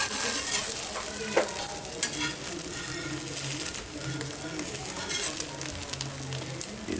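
An omelette fries in a pan with a soft, steady sizzle close by, plus a few faint scraping and stirring touches. A voice may murmur faintly underneath.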